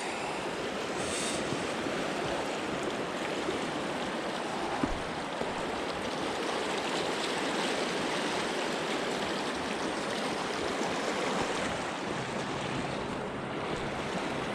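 A mountain stream near Seattle rushes over rocks where trout hold, a continuous broad wash of flowing water heard close and steady for the whole stretch, with light wind noise.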